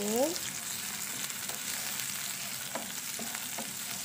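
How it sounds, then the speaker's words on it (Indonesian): Straw mushrooms stir-fried in a pan, a faint, steady sizzle with a few soft scrapes and clicks from stirring, quiet and close. "Kita masak tumis-tumis saja hari ini."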